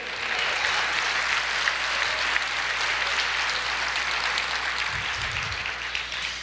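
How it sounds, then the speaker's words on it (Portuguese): A church congregation applauds during a sermon, producing a steady, even wash of many hands clapping at moderate loudness, with a low hum underneath and a brief low thump near the end. "aplauda o Senhor"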